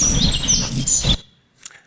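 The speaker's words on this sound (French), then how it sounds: "un tas de modulations de ces vocalises d'oiseaux" Recorded birdsong with varied, modulated calls spanning mid to very high pitches, chirps and whistles over a busy background for about a second, then a brief fainter call after a near-silent gap.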